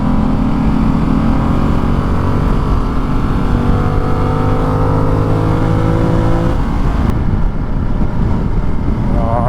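A Ducati Multistrada motorcycle accelerating hard, its engine note climbing steadily through rising harmonics under strong wind rush, then a sharp change as it shifts, loud and close from the rider's position.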